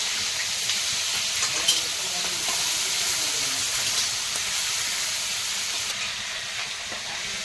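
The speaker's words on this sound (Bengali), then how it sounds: "এবারে পেঁয়াজ কুচিটা দেবো" Chopped onion hits hot oil with whole spices and dried chilli, producing a continuous hissing sizzle with scattered crackles and a few light clinks, steady and close throughout.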